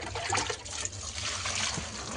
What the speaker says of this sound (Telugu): ఇట్లా 2-3 సార్లు వాటర్ వేసి కడిగేసుకోవాలి